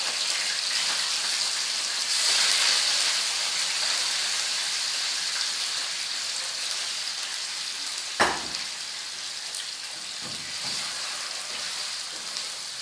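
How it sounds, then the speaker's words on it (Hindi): Fish frying in hot oil, a dense, even hiss of sizzling that continues steadily and close, broken by a single sharp knock or clatter partway through and a few fainter taps afterward. "इस ऑयल में फ़िश को अच्छा सा फ्राई करके हमने इसमें से निकाल लेना है"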